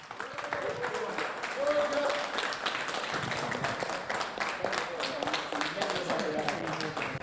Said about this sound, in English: a huge round of applause for your 2020 championship winner with 140 race points